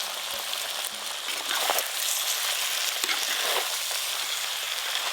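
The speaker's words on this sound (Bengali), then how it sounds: "এবার দেব ভেজে রাখা বেরেস্তা।" Fried onions (beresta) tipped into mutton frying with ground spices in a pan, giving a steady broadband sizzle with a few scraping stirs and soft clatters, close and fairly loud, no voices.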